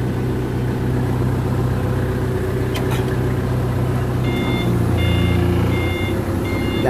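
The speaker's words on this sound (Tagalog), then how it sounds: "Subukan natin bit-bitin kung kaya ng forklift mga kabro." Forklift engine rumbling close by, then a series of regular high-pitched reversing beeps sounding over the steady motor drone in the last couple of seconds.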